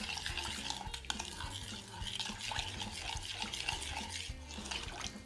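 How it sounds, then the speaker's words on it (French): A spoon stirs a seitan mixture of wet and dry ingredients in a bowl, making a steady, close scraping and churning sound that runs continuously with no talking. "Et de nouveau, on mélange."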